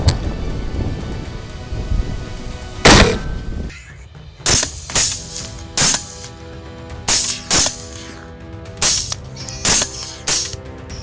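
A series of gunshots fires as about eight sharp, loud blasts in an irregular rhythm, with a first shot standing alone before a quick succession of reports and brief silences between them.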